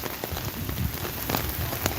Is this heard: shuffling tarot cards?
no